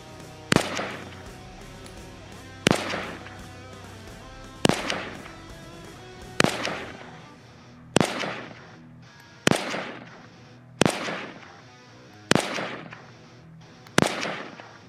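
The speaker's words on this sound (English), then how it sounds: "We're gonna give him some of the old AK rounds, see how that fares up against him." Nine single shots from an AK-47 rifle fired at an outdoor target, each a loud sharp crack with a ringing tail, spaced about one and a half to two seconds apart with no talking.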